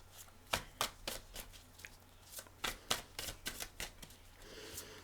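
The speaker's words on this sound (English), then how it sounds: "Give these a cut right over this spread." Tarot cards are cut and riffled in a quiet room: a string of sharp, separate papery slaps and flutters at an uneven rhythm, close to the ear and fairly soft, with no talking.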